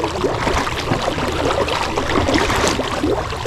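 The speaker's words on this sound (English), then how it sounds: "Here comes a boat, just in time." A boat on Sherman Reservoir near Loup City, Nebraska, passes with a continuous wash of water and hull noise, steady and fairly loud throughout.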